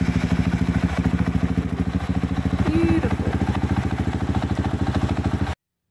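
A Honda CRF450RL motorcycle with a new IMS 11-litre fuel tank runs at a steady idle after starting, a fast even thumping putter close by that holds for several seconds and then cuts off.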